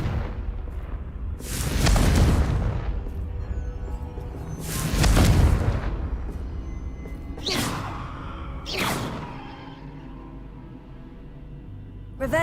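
Two heavy booming blasts of the Confringo spell in the video game Hogwarts Legacy, each a loud whooshing explosion that rumbles and fades, followed by two sharper, lighter magical bursts.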